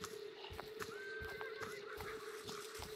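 A single high, thin horse whinny in Hunt: Showdown rises above steady background noise, with soft clip-clop hoofbeats thudding throughout.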